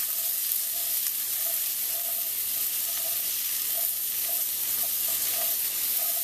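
Butter sizzling in a hot pan with garlic, a steady broad frying hiss with faint crackles popping through, close and continuous, no one talking.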